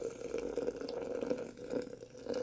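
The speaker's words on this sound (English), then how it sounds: "So I'm going to go ahead and pour in, start my timer." Water is poured steadily from a kettle onto coffee grounds in a French press, a soft continuous trickling and splashing, close by and quiet, with no talking.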